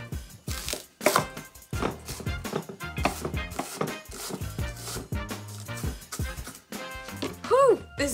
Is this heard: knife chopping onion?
yes